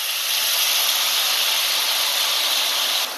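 Chillies frying in hot ghee in a pan for sabudana khichadi, a loud, steady, close sizzle and hiss that holds evenly and drops slightly at the end, with no talking.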